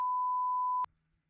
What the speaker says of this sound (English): I better throw in a delayed beep on that one.